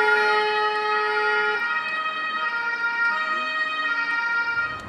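Emergency siren sounding steadily and loud, a sustained wailing tone with gliding pitch shifts, heard alone without talk.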